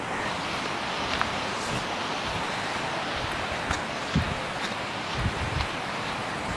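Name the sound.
water flowing at Maskanda Falls, Purulia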